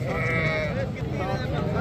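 Sheep bleat at a livestock market lot, wavering tones rising over a constant background of voices and market chatter.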